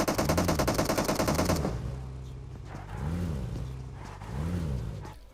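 Rapid automatic gunfire rattles in a fast, loud burst during a PUBG Mobile match, then gives way to a vehicle engine droning and revving in waves.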